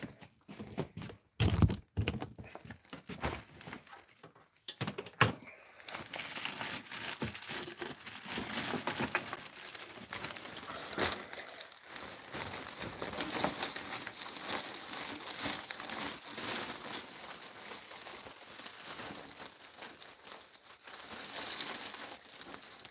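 A kitchen trash bag is crumpled and rustled while being taken out, with crinkling and thumps starting a few seconds in and continuing steadily and close by.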